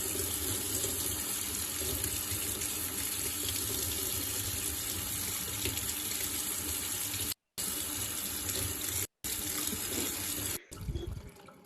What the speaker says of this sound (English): rinse it and clean it well to get rid of those